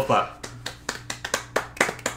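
Single pair of hands clapping as a tribute, about nine crisp, evenly spaced claps close to the microphone in a steady rhythm.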